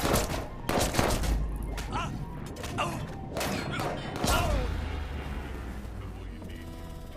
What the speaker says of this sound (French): Le suspect a ouvert le feu.